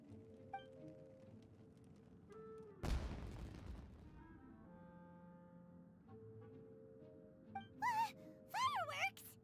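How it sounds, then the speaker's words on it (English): A single loud firework explosion bursts in a Genshin Impact game scene, followed by a long fading crackle over quiet background music, with a character's voice speaking at the end. "Was that an explosion? It sounded like fireworks."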